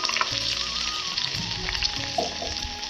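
Onion and aloe vera frying in oil while a spoon stirs them slowly, making a steady close sizzle broken by soft scraping and clinking of the spoon against the pan.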